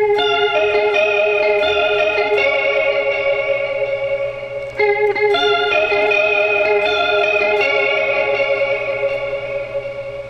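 Chorus-treated electric guitar riff on the middle pickup through a Valeton GP200, shimmering clean notes with a wavering modulated tone, played loudly and alone with a brief pause midway.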